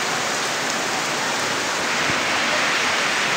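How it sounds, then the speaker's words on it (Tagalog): Steady rain falls outside, heard from shelter beneath a house, a dense continuous hiss of drops with no voices. "Kita ninyo, inabot kami ng ulan."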